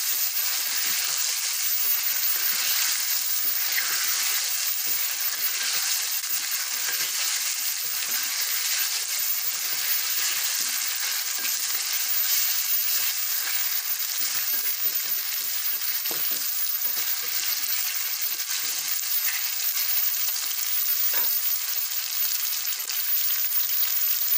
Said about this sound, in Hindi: इसको 10 से 12 मिनट तक हमने अच्छे से ऑयल में भूनना।